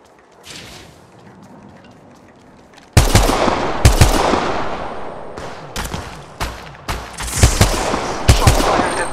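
Gunshots in the video game Apex Legends Mobile: after a quiet opening, loud close shots start suddenly and keep coming as sharp single cracks and short rapid bursts to the end.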